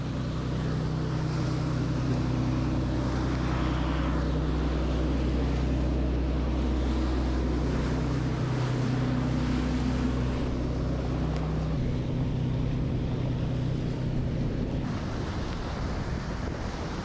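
A boat motors along a Florida waterway toward a marina, its engine a steady low drone mixed with wind buffeting the microphone and water rushing past, continuous and fairly loud, with no talking.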